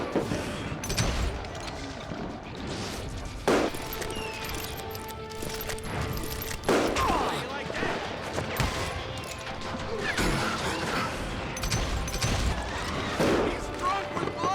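Gunfire in the western shooter Call of Juarez Gunslinger, set in a saloon: repeated loud shots and crashing impacts come in uneven bursts, mixed with a busy game soundtrack and voices.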